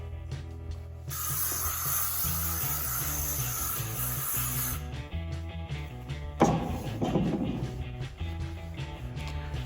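A long steady hiss of aerosol hairspray for a few seconds, then a brief rustle and handling noise over a constant low hum.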